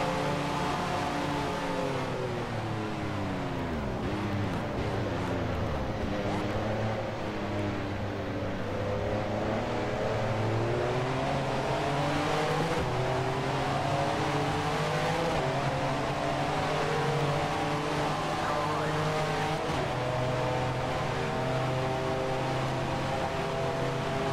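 GTP prototype race car at Circuit de la Sarthe in NASCAR Racing 2003, engine droning loud and steady in a tall fifth gear with rising and falling harmonics, other cars' engines blending in nearby.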